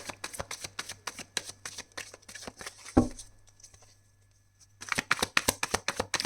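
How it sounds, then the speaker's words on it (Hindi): Tarot cards riffled and shuffled in rapid papery bursts, one clear tap around the middle, a short quiet gap, then more shuffling, close and alone without talk. "3 shuffles and then I'll pick your card."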